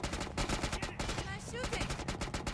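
Rapid bursts of gunfire from the video game Killing Floor 2, a dense, continuous automatic clatter at close range with a voice faintly mixed in.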